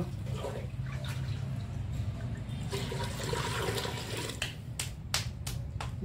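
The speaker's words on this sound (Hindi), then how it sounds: "इसको कुकर रखा गया है और इसमें अब डाला जा रहा है पानी" Water poured into a pressure cooker on a village fire, a soft continuous splashing and gurgling over low background rumble, with a few sharp clinks near the end.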